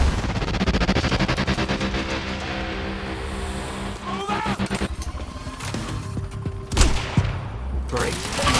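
Rapid gunfire in the Quantum Break video game, with bursts of sharp repeated shots and impacts over a pulsing game soundtrack, plus a louder blast near the end.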